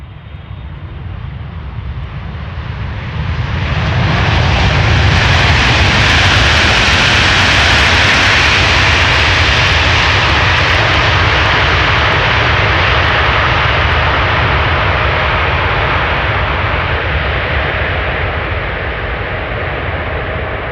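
A passenger jet lands at Amsterdam Schiphol, its roar swelling from a distant rumble into a loud, sustained broadband blast that holds for many seconds, like thrust reversers kicking in, then slowly easing off.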